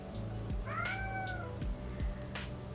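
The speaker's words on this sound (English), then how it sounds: "My cat likes to chime in on some of these topics too." A house cat meows indoors, giving a few drawn-out, rising-and-falling calls over a faint steady background hum, fairly close with no talking.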